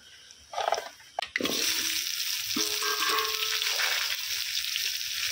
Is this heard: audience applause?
no